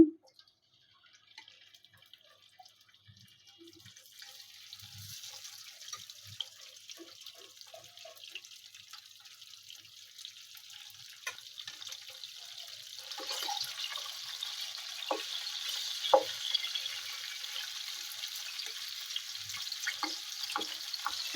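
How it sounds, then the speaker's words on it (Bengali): Fish frying in hot oil in a pot: a soft crackling hiss that swells louder about midway, dotted with small pops and spits, with no talking. "এখন একটু তেল দিয়ে দিচ্ছি মাছটা ভাজার জন্য।"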